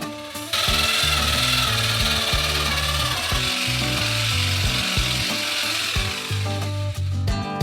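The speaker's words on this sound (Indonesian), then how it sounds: "Dan campurkan dalam es krim dengan mixer besar." A big mixer churns ice cream for a giant homemade Snickers ice cream, giving a loud, steady motor whir with a shifting, rumbling low drone that runs almost unbroken, with no talk.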